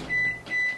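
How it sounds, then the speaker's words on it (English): A microwave oven beeps twice, about 0.4 seconds apart, after heating chocolate in short intervals; two clear, steady electronic tones sound close by with no talking. "20-second intervals in the microwave, stir 20 seconds."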